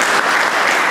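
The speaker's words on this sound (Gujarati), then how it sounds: "એમને આપણે તાળીઓથી વધાવીએ." An audience at a school notebook-distribution event claps for the donors in a brief, loud, dense burst of applause.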